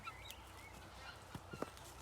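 Geese on a farm let out a few short honks, fairly faint and scattered over a low steady background hum.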